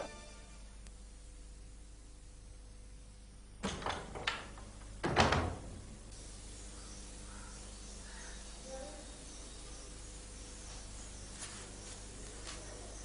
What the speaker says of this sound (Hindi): दरवाजा बंद कर दो, बाहर खड़े रहो।